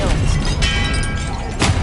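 A spell cast in the video game Hogwarts Legacy: a dense, loud burst of magical crackle and rumble that holds steady for about two seconds, with a brief flare near the end.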